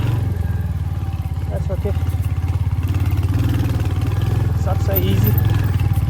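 A Hunter 350 motorcycle carries two riders off-road, its engine thumping steadily and loud throughout with a slight rise near the end, while a voice talks briefly over it.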